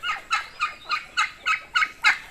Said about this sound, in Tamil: இப்போ கோழிகள்லாம் திறந்து விட்டாச்சு